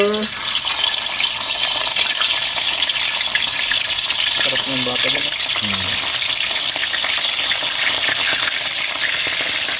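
Fish fries in hot oil with a loud, continuous sizzle and crackle close by, while a voice speaks briefly over it.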